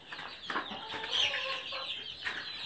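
A hen clucks softly and repeatedly, with short murmured notes close by amid faint farmyard background noise.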